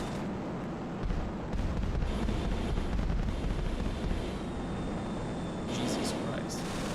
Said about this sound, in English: I'm gonna blow up this car. Yeah, see? The effects are also changed. If I blow up this plane as well.